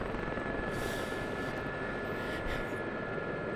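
A Gazelle helicopter in the DCS combat flight simulator drones with a steady, loud turbine and rotor hum throughout, a constant mechanical roar with no talking.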